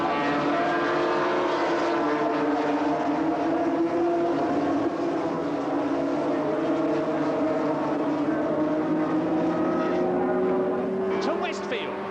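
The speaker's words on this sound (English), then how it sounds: "Come out of Druids Bend, it's Baker leading Mick Grant, Yamaha leading Kawasaki" Yamaha and Kawasaki Formula 750 racing motorcycles scream past at Brands Hatch in 1977, a loud sustained engine roar with shifting pitch under continuous race commentary.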